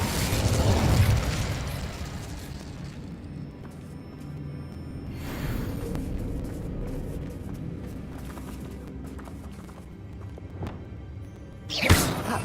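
A fire spell bursts in a Hogwarts wizarding video game, a loud whooshing blast at the start that fades into a low rumbling roar, with a sharp pop near the end.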